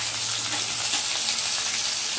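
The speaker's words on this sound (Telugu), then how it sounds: "బాగా ఆయిల్ కాగినప్పుడు అవి వేసుకొని ఫ్రై చేసుకోవాలి" Food frying in hot oil makes a continuous, close, bubbling sizzle with a bright hiss, steady and unbroken throughout.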